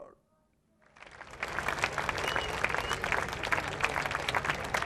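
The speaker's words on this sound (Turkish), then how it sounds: "Biz alkışlıyoruz." A studio audience breaks into applause after a short near-silent pause, and the dense, steady clapping holds at a moderate level until the end.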